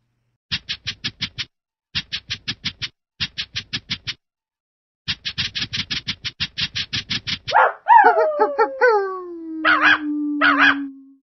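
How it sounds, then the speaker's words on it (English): Several bursts of quick, rhythmic barking from cartoon-like dogs in a preschool counting activity, close and clear in grouped runs, ending with a long drawn-out howl and a few more barks. "Three dogs."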